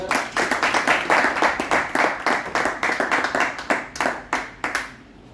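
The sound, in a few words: audience applause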